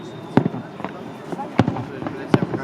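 City Day fireworks display in Tver on 18 July 2021, with several sharp booming bursts and crackles echoing at a distance while people nearby talk over them.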